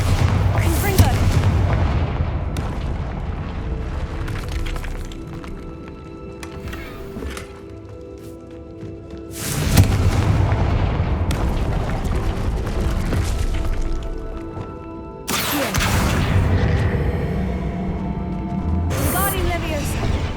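Explosive Bombarda and Confringo spells burst in the video game Hogwarts Legacy, heavy booming blasts at intervals over rumbling game effects, mixed with a character's voice.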